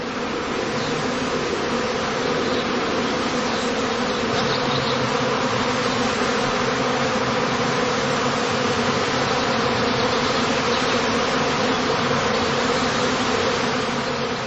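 A dense, steady buzzing drone from a honeybee swarm at a heather skep apiary on heathland, constant and close throughout with no voices.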